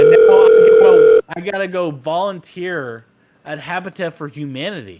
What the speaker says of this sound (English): And that was a phone call coming in.